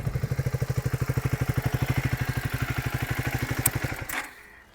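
A motorcycle exhaust, a Royal Enfield Guerrilla 450 or Triumph Speed 400/350, putters at idle in an even, steady pulse for about four seconds, then cuts off and dies away.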